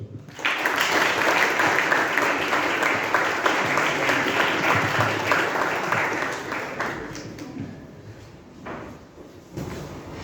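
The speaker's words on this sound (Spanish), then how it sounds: "La recibimos con un caluroso aplauso" Warm applause from a lecture audience welcoming a speaker, a dense, steady clatter of many hands lasting several seconds before thinning out near the end.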